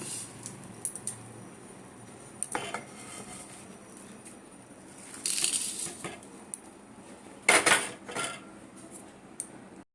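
Sesame seeds being stirred in a dry pan while making dalmoot give sparse light clinks and scrapes of a utensil against the pan, with two brief louder rattling bursts, all fairly quiet and close.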